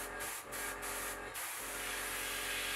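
An airbrush sprays a steady fine hiss continuously at close range, with a few brief dips where the flow seems to pause.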